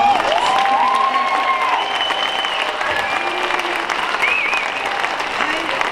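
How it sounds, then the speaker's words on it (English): Families in the audience applaud after a 5th grade concert, a steady roar of clapping mixed with whoops and cheers and scattered voices calling out over it. "Let's give them another round of applause."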